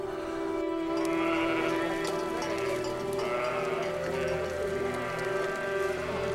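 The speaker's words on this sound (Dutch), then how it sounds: "Sinds 2 jaar grazen de schapen ook in Stadshagen." A grazing flock of sheep in Stadshagen, Zwolle, bleats repeatedly at close range, with several overlapping calls over a steady outdoor background.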